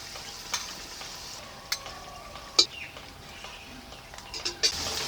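Potato pieces frying in oil in a pan for a Bengali chicken kosha dish, a faint steady sizzle broken by several sharp clinks of a utensil stirring and scraping, with no talking.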